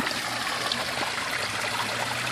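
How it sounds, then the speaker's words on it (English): Water from a lake rushes strongly through an outflow, a steady, dense splashing and gurgling flow heard close up without a break. "That water is actually rushing now."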